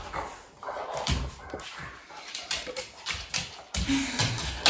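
Several dogs whimper, yip and bark in a scuffle in the background, the sounds coming in irregular bursts at moderate loudness, with no one talking.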